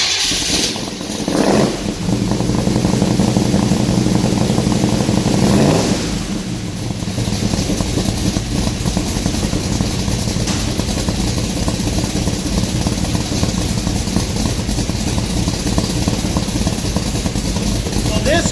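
A loud Chevy C10 truck V8 fitted with a cam fires up and settles into a rough, choppy idle that runs continuously, with a person talking briefly near the start.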